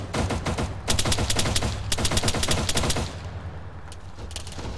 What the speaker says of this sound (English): Shots coming from behind us to the south.